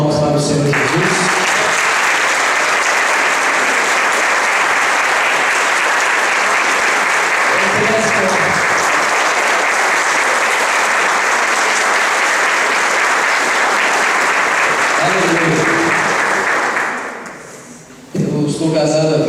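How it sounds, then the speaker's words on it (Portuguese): A church congregation gives sustained, loud applause, a dense wall of many hands clapping that holds steady for about fifteen seconds before fading, with brief talk at the start and end. "Salva de palmas para o Senhor Jesus."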